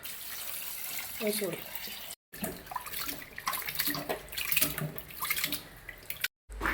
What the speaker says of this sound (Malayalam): നമ്മൾ തണുത്ത വെള്ളത്തിലല്ല ചെറിയ ചൂട് വെള്ളത്തിലാണ് എടുക്കാൻ പോകുന്നത്